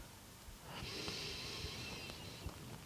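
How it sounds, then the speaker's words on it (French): Slow, deep breath during a yin yoga session, a single long airy inhalation rising and holding for about two seconds, soft and close. "on respire profondément ici, donc on invite le souffle à s'établir un peu plus en profondeur dans le corps"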